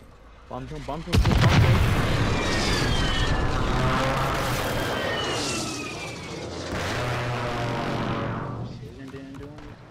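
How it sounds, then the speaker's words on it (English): Friendly airstrike in Call of Duty Modern Warfare III: a sudden loud blast followed by sustained rumbling booms and jet roar, with players talking over it. "Friendly airstrike in the AO."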